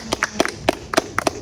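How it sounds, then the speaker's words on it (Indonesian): A small group claps briefly at an indoor gathering, making irregular, sharp hand claps close by. "Oke, tepuk tangan dulu untuk Putih."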